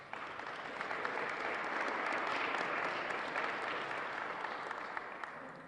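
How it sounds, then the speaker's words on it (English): During a Providence mayor's announcement, the audience gives a moderate round of applause, a soft, even patter of many hands that rises, holds, and tapers off over several seconds. "Can we have an applause for that?"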